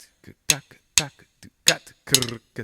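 A single voice imitates the caixa snare drum accents of Mangueira samba with sharp, percussive syllables spaced unevenly, each attack short and bright, close and fairly loud, with silences between.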